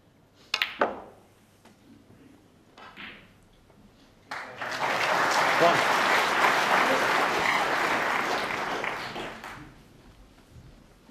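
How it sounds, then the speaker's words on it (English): Snooker crowd at the World Championship applauding in a match between Selby and Perry, a few sharp isolated claps first, then a dense burst of applause swelling for about five seconds before fading away. "the crowd are trying to give Mark Selby a bit of a lift here"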